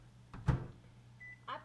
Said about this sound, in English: we're just going to put that real quickly in the microwave